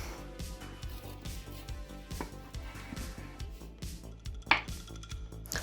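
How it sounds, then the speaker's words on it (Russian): A knife works through cold-smoked pork ribs in quick, regular cutting strokes, a steady rhythmic series of soft thuds and scrapes, faint and close, with light kitchen clatter. "Беру и режу. Вот прям вот беру и режу ребрышко."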